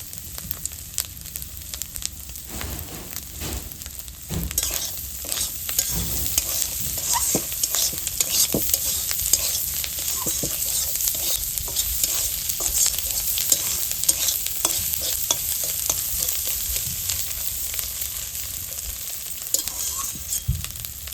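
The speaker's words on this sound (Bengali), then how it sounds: "তো ডিমগুলো ভাজা হয়ে গেছে" Eggs fry in a pan with nigella seeds while a utensil stirs and scrapes them, giving a loud, steady sizzle with frequent scraping taps for about twenty seconds, with no talking.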